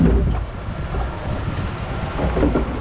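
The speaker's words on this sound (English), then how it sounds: "Oh my God, we're getting some rapids over here." Steady rushing, churning water with a broad roar and gusty wind noise, continuous and fairly loud throughout, from the concrete rapids of the Roaring Creek log flume ride at Silverwood Theme Park.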